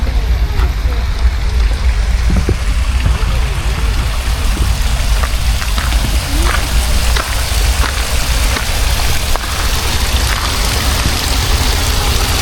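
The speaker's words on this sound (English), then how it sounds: "There's a beautiful waterfall right here." A small waterfall in a garden creek at Crystal Springs Rhododendron Garden pours with a loud, steady rushing and splashing, close by, with soft trickles on top.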